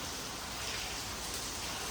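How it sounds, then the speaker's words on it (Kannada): Heavy rain falls steadily, a soft, even hiss of downpour on surfaces with no break and no voices. "ಎಂತ ಪರಪರ ಮಳೆ."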